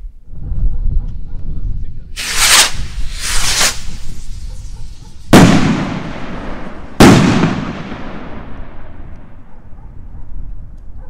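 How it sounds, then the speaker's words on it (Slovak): Firework rockets launch at a New Year's Eve gathering: two whooshing lift-offs followed by two sharp loud bangs with trailing crackle, close by, with voices murmuring in the background. "Ideme na tie raketky."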